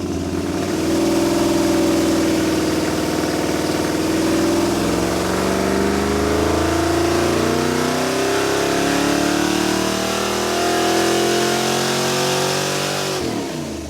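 A loud Mopar 440 V8 engine with Hooker Super Comp fender well headers revs up and holds under heavy load on a dyno, its pitch climbing and wavering in a sustained roar before cutting off abruptly.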